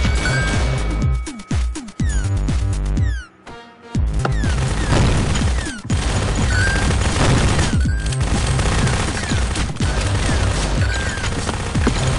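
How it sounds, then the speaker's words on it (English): Rapid gunfire in the Zombie Grinder video game, with double-barrel shotgun blasts among loud, dense overlapping shots and crashes that keep going almost without a break, pausing briefly twice. "That is double barrel shotgun"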